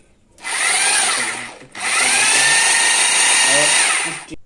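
Wondercut WCGP-2-26 rotary hammer drill running: a loud, steady high-pitched motor whine that stops briefly and then spins up again for a longer run before winding down.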